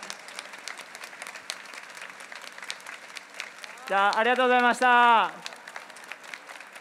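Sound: audience applause

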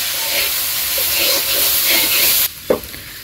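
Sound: stirring fish and onion charchari while cooking

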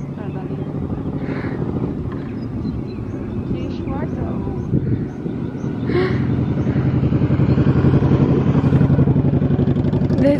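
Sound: motorcycle engine passing

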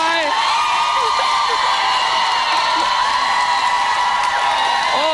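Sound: studio audience screaming and cheering

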